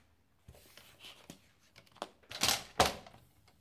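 Paper cut for a scrapbook-style photo album, heard close up as a few soft snips and taps, then louder crisp slicing strokes toward the end, with no talking.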